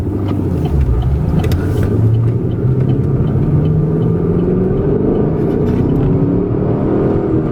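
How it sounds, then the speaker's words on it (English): Steady low rumble of road and tire noise inside a moving 2012 Chevrolet Camaro SS RS with a 6-speed manual, continuous and fairly loud with a faint engine drone, no talking. "There's a lot of road noise and tire noise that I hear."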